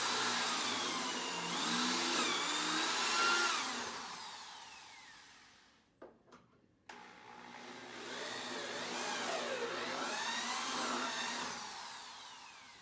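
Power drill boring holes into wood for a custom entry table, a loud whirring run that winds down, a brief pause with a couple of short bursts, then another sustained drilling pass.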